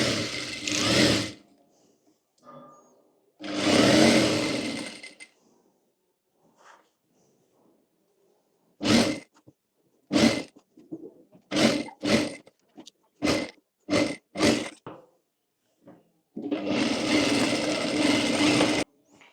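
A sewing machine stitches elastic into a jumpsuit sleeve: long whirring runs alternate with a quick series of short stop-start bursts, close and clear, with quiet pauses between.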